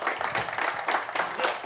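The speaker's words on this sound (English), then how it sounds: "Please give them all a round of applause." Audience applause at a Diwali community event with the mayor, a lively patter of many hands clapping at close to medium distance, steady and unbroken with pulsing surges and no talk over it.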